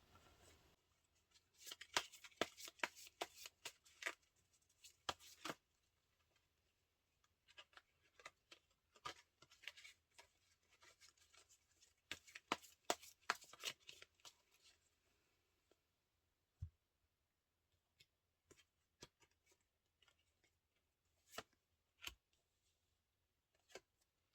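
Tarot cards are shuffled and drawn, with soft, sparse taps and flicks that cluster in busier bursts and then thin out into isolated clicks. The handling is close but very quiet, with no voices.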